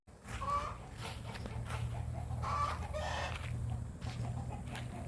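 Chickens at a large backyard coop in a summer garden make scattered soft clucks and brief calls at a moderate distance over a steady low background hum, with no talking.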